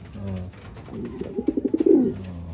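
Racing pigeons coo close by in a loft before pre-flight feeding, a run of soft, rhythmic throaty pulses building to a fuller burst, with a few quieter coos around it.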